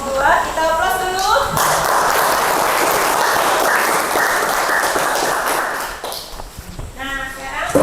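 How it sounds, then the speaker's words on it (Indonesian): Classroom audience applauding after a group presentation: a steady, dense wash of clapping from many hands, fairly loud and close, fading out toward the end. "Kita aplaus dulu."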